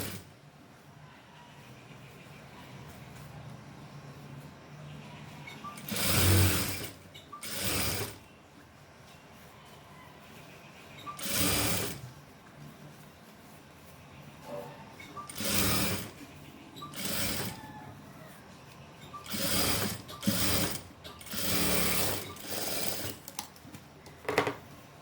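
Sewing machine stitching a frill onto the sleeve fabric of a garment, running in repeated short bursts of rapid mechanical whirring with quiet gaps between, close and steady.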